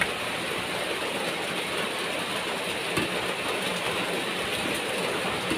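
Heavy rain pouring down during an outdoor lunch break, a dense, constant broadband roar with no breaks, loud and close, and no voices over it.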